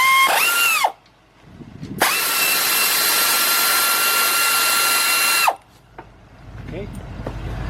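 A power tool whines on a 14 mm bolt at a Nissan rear brake: a short spin, a pause, then a long steady high whir of several seconds that stops abruptly, with some faint background noise after.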